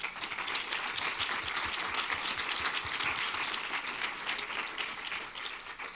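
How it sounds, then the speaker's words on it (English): Sustained applause from a townhall audience at the University of Rijeka thanking a panel, a steady wash of many hands clapping at even loudness throughout, without speech. "I'm sure everybody wants to give them a round of applause."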